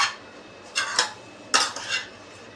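Utensils scrape and clink against a bowl as vada pav potato filling is mixed by hand, a few short bursts of stirring spaced apart, close and fairly quiet.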